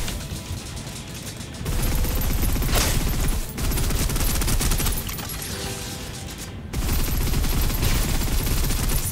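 Sustained automatic gunfire from the video game Snowbreak, a dense loud fusillade of rapid shots running almost unbroken, with brief drops in intensity between bursts.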